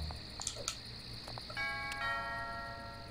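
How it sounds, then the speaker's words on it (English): Video-game doorbell on a house in The Simpsons: Hit & Run, a chime of tones ringing out over steady game background ambience and music, with faint clicks before it. "a couple of houses over here with the interactive doorbell"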